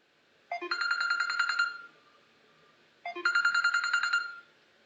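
A telephone rings twice in a small classroom-style setting, two clear electronic trilling bursts of about a second and a half each, separated by a short pause, with nothing else around them.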